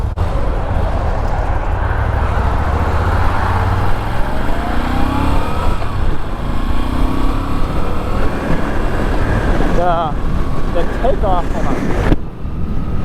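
A Moto Guzzi V7 Stone motorcycle rides along with a steady, loud engine drone, heavy wind rush across the microphone and a couple of rising gear-change sweeps, with a brief voice partway through.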